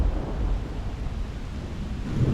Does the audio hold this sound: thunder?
yes